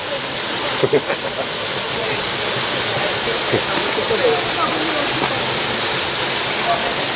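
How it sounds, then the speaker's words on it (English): A steady, full rush of a waterfall in New Zealand fills the scene, broad and constant with a few faint voices murmuring underneath. "There we go, there's this famous waterfall."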